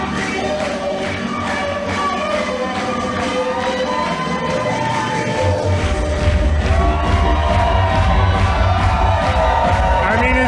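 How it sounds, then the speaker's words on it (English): At a WPW independent wrestling show, a crowd cheers and shouts loudly and without pause, then swells into a fuller, heavier roar partway through. "The crowd's into it."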